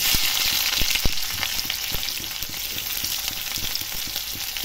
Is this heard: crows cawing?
no